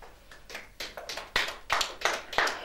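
Church congregation clapping during a French-language sermon, a steady run of rhythmic hand claps building in bursts, fairly close and lively, with no talking over it.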